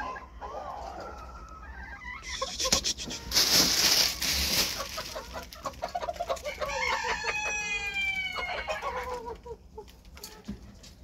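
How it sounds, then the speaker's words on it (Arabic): Rooster crowing with chickens clucking at close range, a loud multi-part crow rising mid-clip, then a series of harmonic clucks and squawks over a busy farmyard background, with brief speech. "طبعا ده الديك شرير يضرب"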